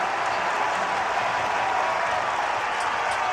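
A college basketball arena crowd at a Baylor vs. Arizona men's game cheers and applauds in a steady, broad roar with no breaks.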